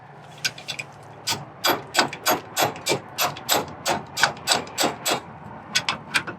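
About sixteen close, sharp hammer blows land in a steady, even rhythm, with a few lighter taps at the start.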